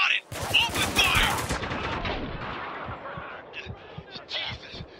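Rapid automatic gunfire from the Spec Ops The Line video game, a dense burst of sharp shots up front that thins into scattered, distant pops, with voices shouting over the fighting.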